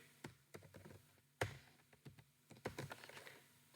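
Code being typed on a computer keyboard, with close, quiet key taps coming in small irregular clusters and a louder keystroke standing out, no voices.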